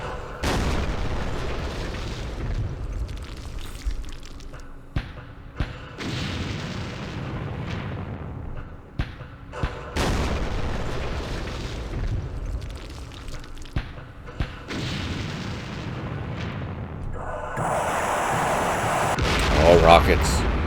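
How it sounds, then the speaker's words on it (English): Rocket strikes in the Vietnam war game Campaign Series Vietnam, Battle of Hue: repeated heavy booming blasts and sharp impacts, several in sequence across the stretch, loud and close, with a brighter burst near the end. "Oh, rockets."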